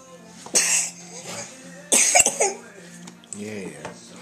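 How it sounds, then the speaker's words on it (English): A child gives a few deliberate fake coughs and throat-clearing sounds at a breakfast table, in short bursts close to the microphone, with brief voices around them. "Fake cough."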